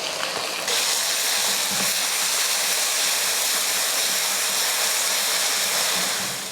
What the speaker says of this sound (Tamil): மல்லித்தலை பேஸ்ட்டு போட்டு ஒரு 2 நிமிஷத்துக்கு இந்த மாதிரி வதக்கிக்கோங்க